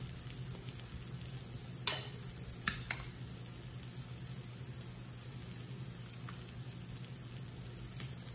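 Crab cakes fry steadily in a pan with a low, even sizzle, broken by a few brief sharp clicks and taps near the start.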